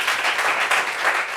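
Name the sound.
audience applause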